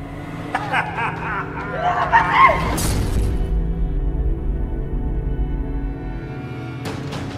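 Glass shatters in a short burst of crashing shards amid background voices and chuckling, followed by a lingering low rumble and another brief sharp noise near the end.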